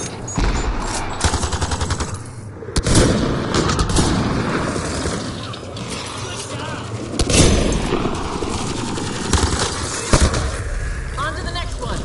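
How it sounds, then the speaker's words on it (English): Gunfire in the Mass Effect Andromeda game aimed at a Kett device, several loud bursts and booming shots with rumbling noise between them, and voices talking throughout. "Shooting the device will destroy it."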